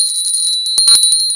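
A small collectible lady-figure handbell rings in bright, tinkling strikes, a quick cluster of shimmering metallic tones with a lingering high ring, close and alone.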